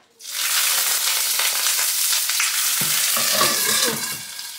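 Loud, steady sizzling of food frying in hot oil starts abruptly and crackles continuously, with some clattering and stirring near the end.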